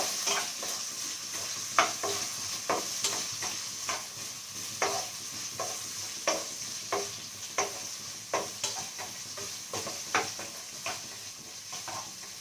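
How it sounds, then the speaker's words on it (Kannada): Onions fry on low flame in hot oil in a pan for a green chicken gravy, giving a steady soft sizzle. Regular clinks of a spoon stirring against the pan sound throughout, and no one talks. "ಸೊ ನಾನೀಗ ಈ ಆನಿಯನ್ನ ಹಾಕ್ಕೊಂಡು ನೀಟಾಗಿ ಫ್ರೈ ಮಾಡ್ಕೊಳ್ತೀನಿ. ಲೋ ಫ್ಲೇಮಲ್ಲೇ ನೀಟಾಗಿ ಫ್ರೈ ಮಾಡ್ಕೊಳ್ಬೇಕು."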